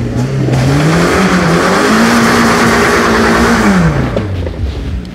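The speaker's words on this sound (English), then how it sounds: "I want you to get the sickest burnout you've seen" Mazda Miata doing a burnout, its engine held at a loud, steady high-rev roar with rising and falling pitch for several seconds before easing off, close and continuous.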